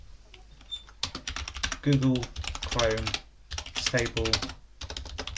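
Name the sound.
typing a terminal command on a computer keyboard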